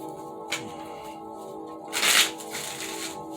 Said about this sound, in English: 4 more shuffles for the fixed signs.